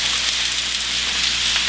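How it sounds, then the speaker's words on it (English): Onions and peppers sautéing in a pan of olive and sesame oil, a steady bright sizzle and hiss, close and continuous with no talk. "tablespoon of olive oil, tablespoon of sesame oil to another pan, and saute my onions"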